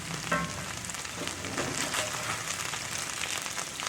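Okra frying in a cast iron skillet for traditional Southern fried okra, a dense, steady crackling sizzle with popping oil, close and continuous throughout with no voices.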